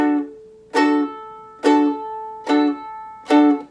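Ukulele chord played as short staccato strums with the fretting fingers resting lightly on the strings, four or five crisp hits spaced about a second apart, each cut off quickly, close and clear with no talk.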